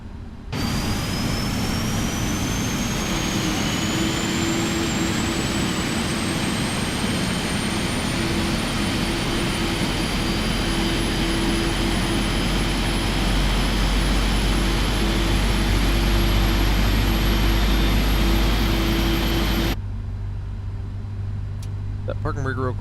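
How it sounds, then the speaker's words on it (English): Engine number two of a PMDG 777-300ER airliner starts in a flight simulator. A steady whine climbs slowly in pitch over a constant low roar for about twenty seconds, then cuts off abruptly. "That was a good start on engine numero 1. Let's turn number 2."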